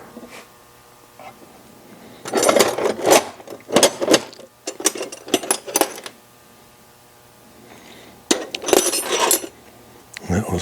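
Metal wrenches clink and rattle in bursts as someone rummages through them while cleaning up an old Atlas lathe, loud clustered jangles separated by quieter pauses.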